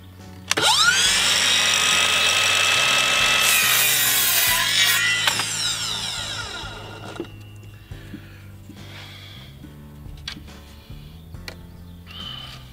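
A power router cuts custom-sized window molding, a loud, steady whining bite into wood that holds for several seconds, then tapers off into quieter scraping and handling noises.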